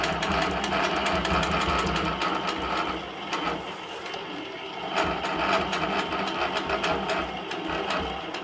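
An Innova longarm quilting machine stitches continuously with a dense, steady mechanical hum and rapid needle chatter, holding a fairly even loudness with slight swells throughout.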